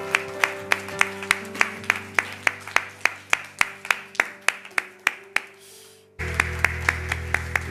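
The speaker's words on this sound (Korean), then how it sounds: "우리 한 번 더 주님께 영광과 감사의 박수 올려드립시다" Worship congregation clapping together in a church service, a steady rhythmic beat of about two claps per second that stops for a moment, then resumes with a sustained organ-like chord underneath.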